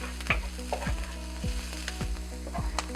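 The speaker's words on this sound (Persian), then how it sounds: "یه کمی دیگه روغن میریزم و پیازم رو کمی تفتش میدم." Onion frying in oil in a pan for lasagna, a steady close sizzle broken by a regular rhythm of scraping stirs, about one every half second.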